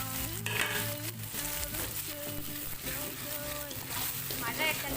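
Tomatoes dropped into a pan of fried onions set off a steady, busy sizzle, with a spoon stirring and someone talking over the cooking.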